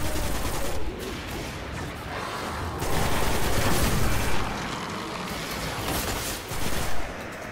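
Dense gunfire and grenade blasts from the video game Destiny roar continuously, loud and close, with bursts of rapid shots and heavier booms swelling throughout.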